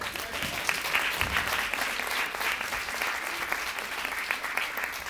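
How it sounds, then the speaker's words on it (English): Sustained applause from a conference audience at an early childhood keynote, a dense, steady wash of many hands clapping for about five seconds, fairly close and even in loudness with no talk over it. "Let's give Ken another round of applause"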